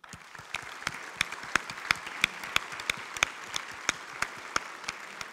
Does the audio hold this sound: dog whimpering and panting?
no